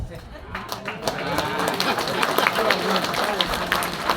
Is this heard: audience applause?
yes